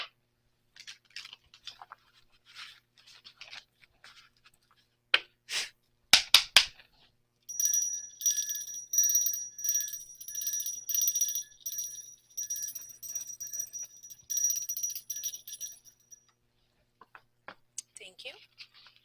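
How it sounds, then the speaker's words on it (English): A bell struck to cleanse the atmosphere rings out as a sustained, bright shimmering tone lasting several seconds, following short bursts of handling noise and some quiet speech before it. "I would like to take a moment to cleanse the atmosphere in 1 second with the bell."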